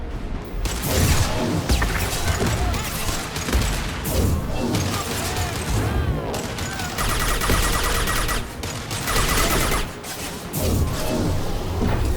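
An impact shot in the sci-fi shooter Mass Effect, fired amid loud, continuous combat with repeated bursts of gunfire, crashes and clanks layered close together.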